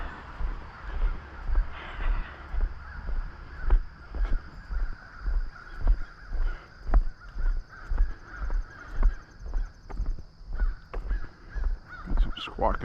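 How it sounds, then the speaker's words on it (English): Birds, likely crows, squawk and caw repeatedly outdoors near a Greek festival, with harsh calls coming again and again over steady footsteps, wind and background murmur. "Got some squawking going on there."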